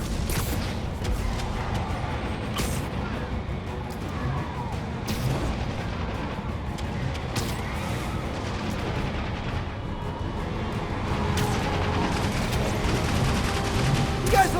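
Gunfire in the Marvel's Spider-Man video game: repeated sharp shots and booming blasts over a dense, rumbling action backdrop, close and loud, with several sudden bursts early on and near the middle.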